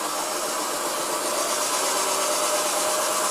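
An electric scooter motor runs steadily at about half throttle after a conversion from thumb to twist throttle, giving a continuous, even whir with close, constant loudness and no speech.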